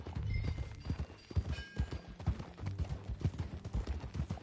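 Rhythmic clip-clop of horse hooves from a video game ride, steady and fairly close, with a low rumbling bed and faint game sounds layered over the steps.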